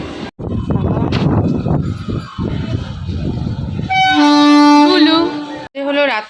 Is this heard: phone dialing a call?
no